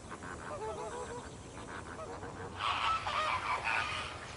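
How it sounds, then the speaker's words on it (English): Dense honking and squawking from a crowded flock of flamingos, many birds calling at once, continuous and fairly close, with a louder burst of harsher calls in the latter half. "That means flamingos talk, non-stop."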